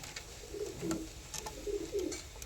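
Domestic pigeons, among them a laying hen bird and a Rampuri cock, coo in several soft rolling phrases close by, over faint background noise with no talking.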